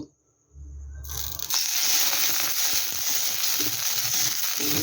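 Oil and water hit a hot pan for chitoi pitha, erupting into a loud, dense, steady sizzle after a brief low thump, crackling evenly and close up.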